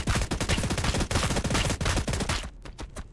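Rapid bursts of gunfire from the Warhammer 40000 Battlesector video game, loud, dense and continuous for most of the clip, then cutting off abruptly into a quieter tail.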